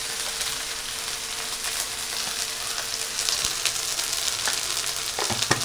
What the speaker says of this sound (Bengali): আমি কষিয়ে নেব মশলার সঙ্গে হলুদ লবণ দিয়ে